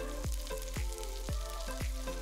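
Chopped ginger and chilies frying in sesame oil sizzle steadily, with a few regular scraping stirs and a steady hum underneath.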